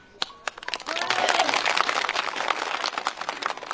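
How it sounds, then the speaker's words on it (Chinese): An audience at a New Year charity visit event in Datong bursts into sustained applause after a few isolated claps, dense and loud clapping filling most of the clip. "鼓个掌，在他的付出表示感谢啊。"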